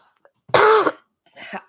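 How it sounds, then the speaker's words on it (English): A single harsh cough close to the microphone, followed by a softer throat-clearing sound a moment later. "sorry, I didn't want to cough in the mic."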